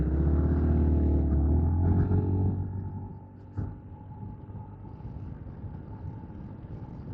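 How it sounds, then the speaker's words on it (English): A 2026 Honda ADV350 scooter held at full throttle, a steady droning engine hum with wind rumble that eases slightly partway through, heard close from the rider's position with no talk. "So I've just opened up full throttle and just holding it there."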